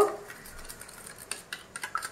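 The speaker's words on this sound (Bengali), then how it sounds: "চিকেনটা আগে দইটাকে ভালো করে চামচ দিয়ে আমি এটাকে ফেটিয়ে নেব" A spoon whisks yogurt in a bowl, producing quiet, irregular clinks and scrapes against the bowl that grow more frequent toward the end, close and faint with no talking.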